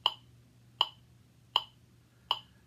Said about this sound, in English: when I turn the metronome on, you're going to hear clicks.